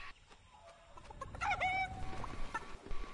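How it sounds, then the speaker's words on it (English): Several video game chickens cluck and squawk close by, busy overlapping calls over a low background rumble. "There's a fuckload of chickens over here."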